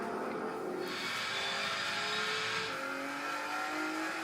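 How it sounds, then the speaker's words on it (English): Ford Mustang GTD V8 revving at very high pitch, a sustained racing engine wail with rising and shifting tones, loud and continuous throughout, with a faint tire squeal quality. "Now the highest pitched V8 there, guys. That's the Mustang GTD doing that."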